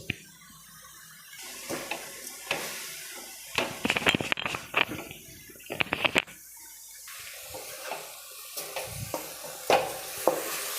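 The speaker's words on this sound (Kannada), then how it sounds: "ಸೊಪ್ಪಿಗೆ ಎಕ್ಸ್ಟ್ರಾ ನೀರೇನು ಹಾಕೋಕ್ಕೋಗಿಲ್ಲ ನಾನು ಹಾಗೆಯೇ ಎಣ್ಣೆಲೆ ಫ್ರೈ ಆಗ್ತಿದೆ" Greens (soppu) fry in oil in a pan, with scraping stirs, spatula clatter and soft intermittent sizzling, the loudest stirring bursts coming in clusters between quieter stretches.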